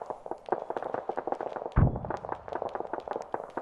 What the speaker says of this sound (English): I think somebody might be firing a few rounds over there. Maybe mortars